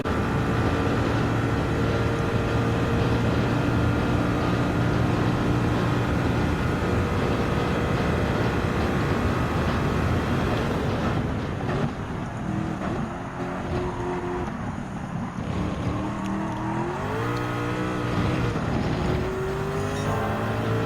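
Gr.1 race car screaming at full speed around Le Mans in Gran Turismo 7, a loud steady engine drone with rising gear-change sweeps and a quieter, shifting stretch in the second half.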